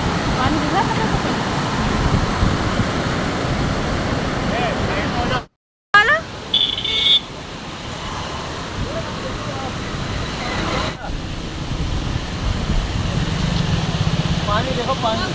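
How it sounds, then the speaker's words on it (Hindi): Fast-flowing water near the India–Nepal border roars in a broad, continuous rush, heard up close and loud. Someone talks over it throughout, and there is a brief dropout partway through. "देखिए कितनी तेज पानी बह रहा है, इतनी भयानक आवाज़ें आ रही है"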